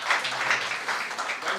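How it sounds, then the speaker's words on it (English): Brief burst of applause from a symposium audience on finance and the naira, a soft, even patter of many hands heard from a moderate distance. "Let's give them a round of applause."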